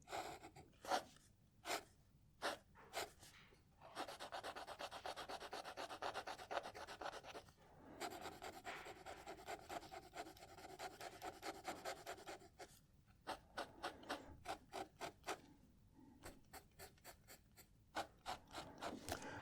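A fountain pen with a 1.1 stub nib scratches shimmer ink onto paper, alternating quick repeated strokes with longer continuous scribbles, faint and close.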